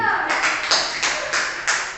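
Several scattered hand claps ring out in a classroom for a student, a handful of separate sharp claps spread over a couple of seconds rather than full applause, close and moderately loud.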